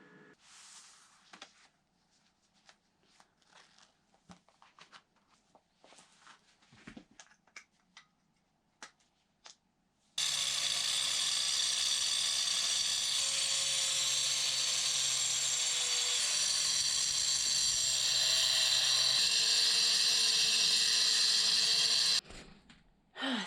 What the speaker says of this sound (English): angle grinders without the guard on them are slightly terrifying